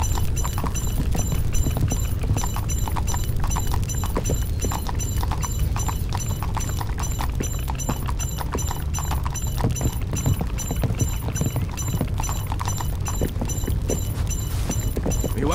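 Horse hooves clip-clop steadily in the medieval video game 1428: Shadows over Silesia, a fast, even trotting rhythm close up and continuous over a dense background.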